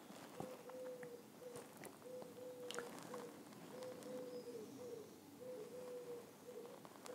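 A pigeon calls outdoors in a repeating series of soft cooing phrases, moderately distant and steady, over a quiet background with faint ambient noise.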